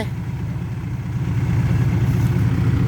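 A tractor engine idles with a steady low throbbing rumble, close and continuous, growing slightly louder toward the end, with no one speaking.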